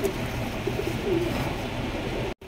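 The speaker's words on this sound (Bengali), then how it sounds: "এখানে রয়েছে একজোড়া ব্ল্যাক কালারের লাহোরি কবুতর" A pair of black Lahori pigeons coo softly and low over steady background hum, the murmuring calls faint and running together, with no talking.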